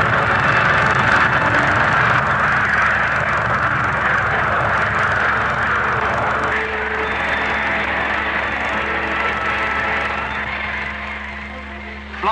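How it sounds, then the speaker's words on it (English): RAF twin-seat jet training planes of the Central Flying School taking off for formation aerobatic practice, a loud sustained jet engine roar that holds steady, then slowly fades as the aircraft draw away. "the Red Pelicans take off for aerobatic practice."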